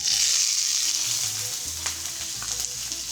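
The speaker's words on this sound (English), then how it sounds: "I'm gonna add about a quarter cup of olive oil to my cast iron pan, which I already have over medium-high heat" Finely chopped onion frying in about a quarter cup of olive oil in a cast iron pan over medium-high heat, a loud, steady hiss of sizzling with a few brief stirring clicks.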